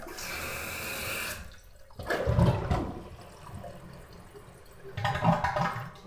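A household toilet with a float-adjusted fill valve flushes, a loud rushing swirl of water, followed by further surges and gurgling as the tank refills, with no talk.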